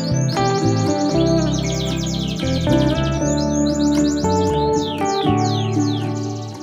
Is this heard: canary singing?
yes